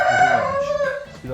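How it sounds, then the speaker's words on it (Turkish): A chicken brought in a box as a gift gives a loud, close drawn-out crowing call with falling pitch, followed by a short cluck. "Şimdi Tavuk getirdi lan bu"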